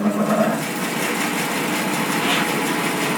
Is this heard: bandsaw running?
yes